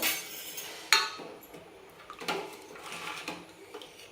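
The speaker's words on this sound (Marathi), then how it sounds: "ढवळून घेऊ छान ह्याला" A spoon scrapes and clinks against a metal pot of mutton curry in irregular strokes, soft and close, with no talking.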